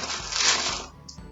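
Oreo biscuits tumble into a plastic zipper bag with a close, crinkly rattle and clatter, one continuous burst followed by a small tap.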